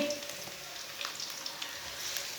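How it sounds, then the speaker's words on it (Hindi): A spoonful of finely chopped garlic fries in oil with browned onion in a pan, giving a soft, continuous hissing sizzle with a few faint crackles, close and quiet, with no talking. "1 चम्मच बारीक कटा हुआ लहसुन डाल लेंगे।"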